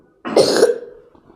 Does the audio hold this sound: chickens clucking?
no